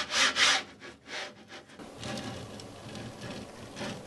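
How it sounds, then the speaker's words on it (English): Grinding, crunching rub from the linear bearings of a Creality Ender 5 S1 3D printer, close up, with a few louder scraping bursts followed by a steadier gritty drone. "it's kind of making a grinding noise and it's catching a little bit"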